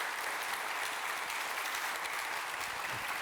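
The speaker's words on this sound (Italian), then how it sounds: "Credo che meriti un grande applauso." Audience applause for a speaker named Luca at a talent event, a sustained, even roar of many hands clapping throughout without voices on top.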